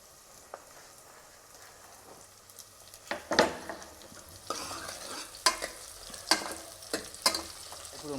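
Ingredients for a mutton curry, with mint added, are stirred and fried in a pan: a soft continuous sizzle under a series of sharp spoon scrapes and clinks against the pan, growing busier in the second half.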